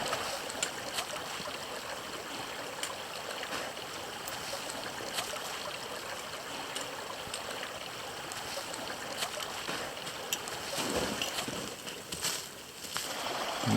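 A stream rushes along an abandoned Adirondack trail in winter. The water keeps up a steady, soft rushing wash the whole time, with no voices.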